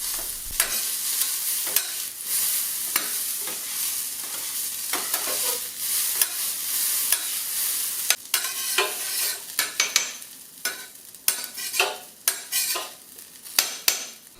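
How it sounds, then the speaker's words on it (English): Onions sauteing with paprika on a flat griddle while cooking a Philly cheesesteak, giving a steady close sizzle broken by frequent scraping and stirring strokes from a metal spatula, busier toward the end. "Putting down the onions to let them saute, and I'm adding paprika to them to season them up a little bit."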